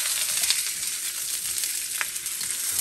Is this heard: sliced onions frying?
yes